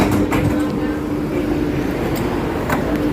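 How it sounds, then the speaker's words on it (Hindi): A Dubai Metro train pulling away from a station, a steady low rumble with a constant hum and a few faint clunks, fairly loud and close, with someone speaking over it. "अभी ये मेट्रो वापस जा रहा है"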